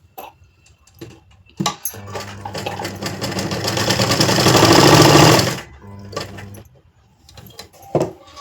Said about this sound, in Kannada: ಈಗ ಮುಂದಿನ ಭಾಗದನ್ನು ತಗೊಂಡು ಒಂದು ಸ್ಟಿಚ್ ಹಾಕೋಬೇಕು ಮತ್ತೆ ಅದೇ ರೀತಿಯಾಗಿ